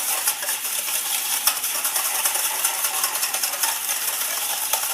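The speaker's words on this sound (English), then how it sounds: "give that a good whisk, and that will emulsify it" Whisk beating oil, vinegar and salt into a horseradish dressing in a bowl, a steady fast metallic scratching and clinking that runs continuously, close and fairly loud.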